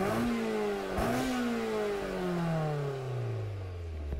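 A Honda Integra Type R engine in the video game Gran Turismo Sport revs up and then winds down in long sweeping pitch glides, loud and continuous, with a slight clatter partway through.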